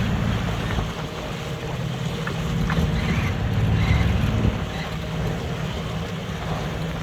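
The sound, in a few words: sailboat heading side-on into choppy waves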